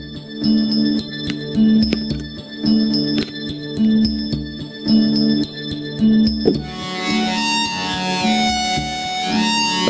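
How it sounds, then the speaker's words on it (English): Sonified tone of the element fluorine: bright, bell-like ringing tones struck in a repeating pattern, then a shimmering cluster of chimes, loud and continuous with no talk. "That's fluorine."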